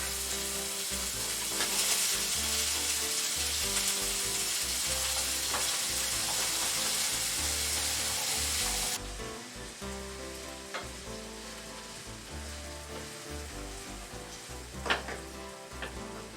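Ground beef fries in a very hot pan with a loud, continuous close sizzle and crackle while a wooden spoon breaks it apart. The sizzle eases slightly partway through as the heat is turned down.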